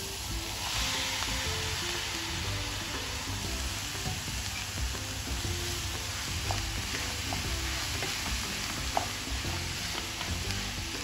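Half a kilo of dal for amti is sautéed in a pan over a low flame, giving a steady, dense sizzle and frying hiss with light stirring scrapes throughout.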